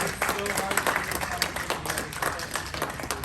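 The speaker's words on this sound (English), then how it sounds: "please stand up. Yes, thank you. Big round of applause." Big round of applause from an audience at a student pitch competition event, dense continuous clapping filling the whole moment at close range with some crowd voices mixed in.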